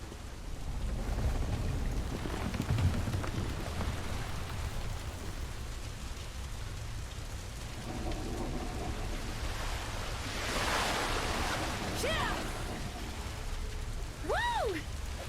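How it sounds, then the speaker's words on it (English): Steady rain in a naval battle video game hisses across the whole scene at an even level, with soft rumbling underneath and a few rising whistling tones near the end. "Hey, rain."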